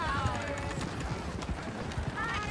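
Horse hooves clip-clop in a steady walking rhythm in a PS4 video game, with faint voices murmuring in the background.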